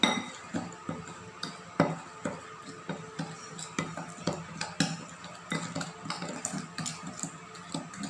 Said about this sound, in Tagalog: Hahaluin muna natin siya na ma-dissolve.